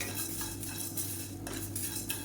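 Roasted spices with asafoetida are stirred in a pan. Quiet scraping and clinking of a metal utensil against the pan repeats in a loose rhythm over a faint low sizzle, with no one speaking.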